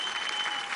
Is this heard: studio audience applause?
yes